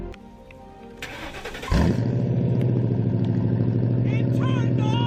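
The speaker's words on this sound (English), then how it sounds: "Will this engine turn on?" A water-soaked Ford Crown Victoria Police Interceptor engine cranks briefly and then catches, settling into a loud, steady idle with a low rumble that carries on to the end.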